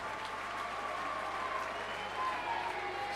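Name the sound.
ice hockey crowd applauding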